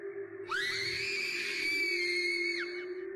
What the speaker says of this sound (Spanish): El grito de mi hija, junto con un gran estruendo, me hizo volver a la realidad.